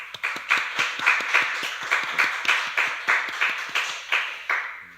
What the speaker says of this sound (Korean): 우리 박수로 한번 감사의 인사하겠습니다.